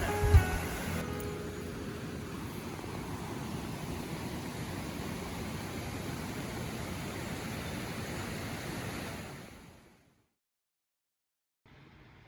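Water flows steadily beside a campsite bench in the Brecon Beacons, a close, even rushing wash that holds for about ten seconds before cutting to silence.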